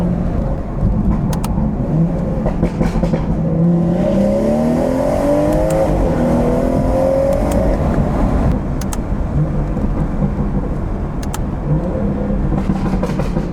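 A stage 2 tuned BMW 440i engine pulls hard through second gear on a backroad, a loud continuous roar with rising pitch sweeps under steady cabin noise, then easing off near the end.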